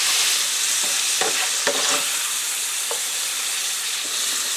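Sausages and mushrooms sizzle steadily in a frying pan, a continuous close hiss with a few brief clicks and spatters, no voices.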